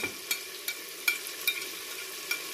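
Spiced masala with green chilies frying in a pan, giving a steady soft sizzle punctuated by several sharp stirring clinks of a spoon against the metal at irregular intervals, close and moderately quiet with no talk.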